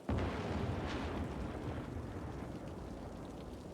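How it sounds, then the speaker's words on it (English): In the city-building game Cities: Skylines, a lightning storm's thunder erupts in a sudden loud boom and then rolls into a long, rumbling, rain-like wash that slowly fades, with no talking. "It's very aggressive lightning."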